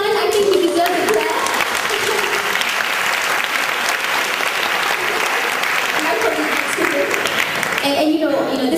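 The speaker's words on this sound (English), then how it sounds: "To everyone, I think you deserve a clap." Applause from an audience in a parliament chamber, dense and sustained clapping that holds at an even level for several seconds, with brief voices near the start and end.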